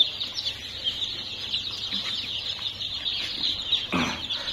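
Chickens cluck and chatter faintly in a busy coop, over a constant high hiss of background noise, with a brief rustle near the end.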